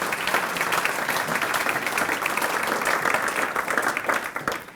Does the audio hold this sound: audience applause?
yes